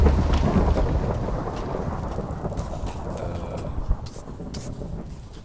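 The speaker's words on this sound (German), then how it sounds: "Der Blitz wird über mir eintreffen." Crackling thunder-like lightning strike in Minecraft's Elemental Creepers mod, a steady broad rumble and rain-like hiss through the clip with a brief sharp crack near the end, fairly loud and close.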